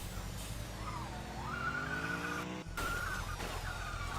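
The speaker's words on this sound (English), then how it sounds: "We blew a tyre" A car in the video game The Long Drive loses a tyre and skids, with a steady engine drone under rising and falling tyre squeal and a brief dropout midway.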